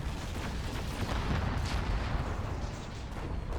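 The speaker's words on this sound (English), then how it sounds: "Nuke cannon finds its mark." A nuke cannon shell explodes in the real-time strategy game Generals Evolution, giving a dense, rumbling blast that rolls on steadily for several seconds at a moderate, even level.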